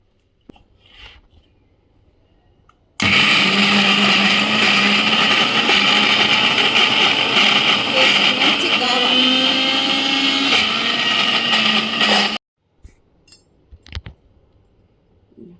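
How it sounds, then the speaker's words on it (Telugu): A mixie blender grinds a spiced paste for stuffed brinjal, cumin and fenugreek powder among the ingredients. It roars loud and steady for about nine seconds, then cuts off abruptly, with faint clatter before and after. "దీన్ని మిక్సీ పట్టుకుంటాను."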